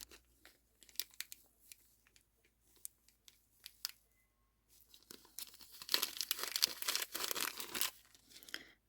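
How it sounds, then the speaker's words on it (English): Wool fabric drawn out of a crinkly plastic package: scattered soft rustles at first, then a louder burst of crackling, crumpling plastic in the second half, close and without talk. "Maybe I'll take it out of the package"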